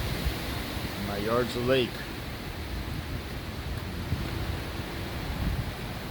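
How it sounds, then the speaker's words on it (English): Wind blowing through a backyard outdoors, a steady broad rush with gusts battering the microphone, as someone speaks briefly over it. "that wind is coming through"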